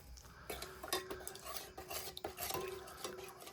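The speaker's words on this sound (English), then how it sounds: "Give that a stir." A spoon stirs the contents of a 1977 US long-range patrol ration, with rapid scraping and clinking against the container in quick bursts, quiet and close; no speech.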